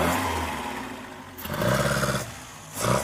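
A 1.1-litre economy engine in an old Mk1 Ford Fiesta idles roughly, then rises in two short revs, loud and close with no one speaking.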